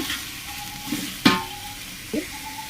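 Meat and vegetables fry together in a pan with a faint sizzle, broken by a few brief scraping stirs, one sharper knock of a utensil near the middle.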